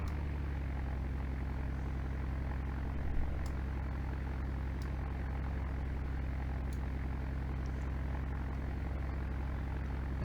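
A simulated Piper 28 single-engine propeller aircraft drones steadily at high power during its takeoff roll, a loud, even engine hum with a few faint clicks on top and no speech.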